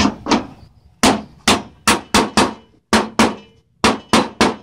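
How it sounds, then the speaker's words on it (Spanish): A rivet is hammered into a dented metal door: about a dozen sharp, loud hammer blows land close by in irregular bursts, some in quick pairs and triples, with brief silences between. "voy a meter un remache para decirle más o menos cuál es el proceso."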